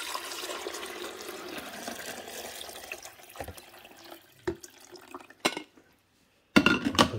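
Fresh water pours from a container into the reservoir of a Cuisinart 12-cup black stainless coffee maker, model DCC-1220, in a steady splashing stream that tapers off into a few clunks and a brief louder splash at the end.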